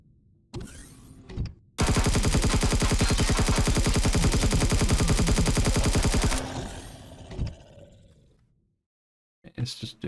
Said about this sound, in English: He's firing at me.